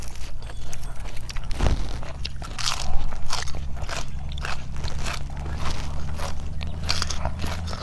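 Someone bites into a crispy squid papaya salad with repeated crunches and chewing, loud and close, with irregular bites and scrapes running through the clip and no talking.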